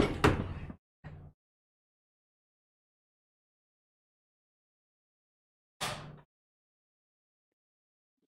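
Door handled twice: one sharp, loud knock-like thud with a brief rattle, a second softer bump a moment later, then long silence before another firm closing thud.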